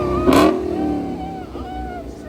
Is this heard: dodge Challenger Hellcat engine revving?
yes